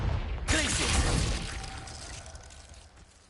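Glacius freezing spell in the Hogwarts Legacy video game: a sharp icy burst with a shattering, crackling onset that slowly fades into a low rumbling ambience.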